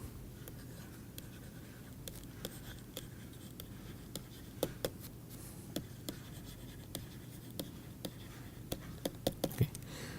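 Equations are written by hand with a pen or chalk: soft, faint scratchy strokes come in quick, intermittent bursts in a quiet room, with no talking.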